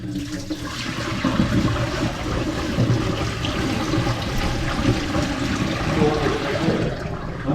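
A toilet flushes with a steady, loud rush of water that keeps churning and gurgling for several seconds.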